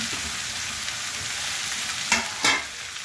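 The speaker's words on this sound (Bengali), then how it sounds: "মেথি শাক দিয়ে দিলাম, মেথি শাক দিয়ে দিলাম।" Fenugreek greens frying in a pan, a steady broadband sizzle throughout with two brief louder crackling bursts near the end as the leaves are stirred; no voices.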